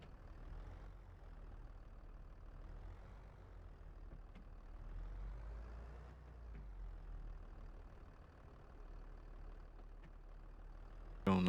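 A tractor engine runs in the video game Farming Simulator 22, giving a steady, low, droning idle hum that stays even, with a brief bump at the very end.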